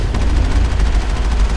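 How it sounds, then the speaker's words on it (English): Loud, rapid bursts of gunfire in Mass Effect while firing on the move from the Mako on lava-covered Therum, densely packed shots with no pauses. "Yay, on the run shooting."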